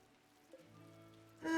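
Rain falls in foggy weather in the video game RimWorld: a soft, steady patter under sustained tonal game music, with the downpour swelling much louder and brighter in the final moments.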